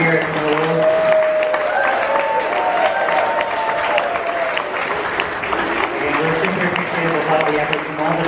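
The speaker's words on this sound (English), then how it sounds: "Another big round of applause for the entire team here at Knoebels." A crowd at a Knoebels amusement park event applauds the park's entire team, a sustained round of clapping and cheering with voices carrying through it for several seconds.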